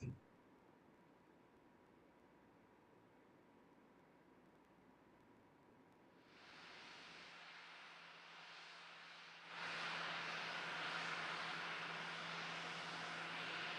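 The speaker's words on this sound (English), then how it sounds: "Gulfstream jet that the astronauts arriving in is pulling up on the apron off the launch and landing facility" A Gulfstream jet carrying astronauts taxis on the apron beside the shuttle landing runway, its engine rising from a faint distant hum to a steadier, louder whine and rush in two stages.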